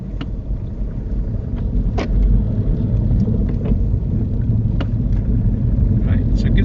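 A learner driver's car engine rumbles steadily inside the cabin, its low drone rising slightly in level as the gas is pressed, with faint clicks and interior noises over the top.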